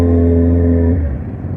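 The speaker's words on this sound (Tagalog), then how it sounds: "Traffic." A Honda CB650R's engine drones loud and close, then drops to a lower, rougher rumble in traffic, with no voices.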